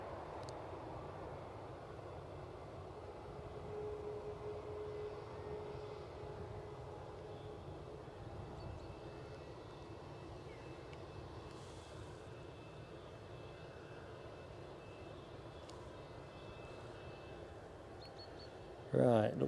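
An EasyJet airliner taking off at Edinburgh airport gives a steady, fairly distant engine rumble that holds throughout, with a brief louder knock at the very end.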